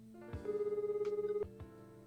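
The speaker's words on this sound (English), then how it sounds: "Sasazuka took out a cell phone and made a quick call" A cell phone rings in the video game Collar X Malice, one sustained electronic ringtone tone of about a second, fairly quiet, with a few soft clicks around it.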